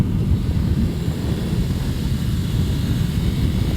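A 2019 Ducati Scrambler motorcycle engine drones steadily under throttle at a little over 2,000 RPM in fourth gear, a loud continuous low rumble mixed with wind noise and no talking.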